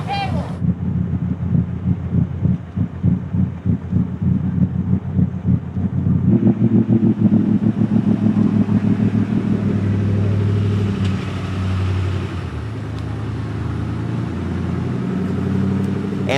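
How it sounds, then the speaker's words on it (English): An off-road competition truck at the Top Truck Challenge idles with its fuel-injected engine turned up to a raised idle, a loud steady throbbing rumble buffeted by wind noise while people talk over it. "they have turned up the idle on the fuel injection system of the Sniper so that Steve could crawl out on the hood without killing the engine"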